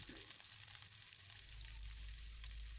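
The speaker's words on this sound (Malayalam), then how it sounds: "ഉഴുന്ന് നന്നായിട്ട് മൂത്തപ്പോഴേക്ക് അതിലേക്ക് അരിഞ്ഞു വെച്ചിരിക്കുന്ന കൊച്ചുള്ളി ഇട്ട് കൊടുത്തു" Chopped shallots frying in oil with browned urad dal for a traditional Kerala coconut chutney, a dense, continuous hiss of sizzling that stays even and fairly quiet throughout, with no speech.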